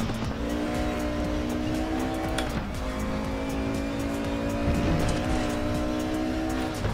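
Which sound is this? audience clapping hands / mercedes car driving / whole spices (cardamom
mercedes car driving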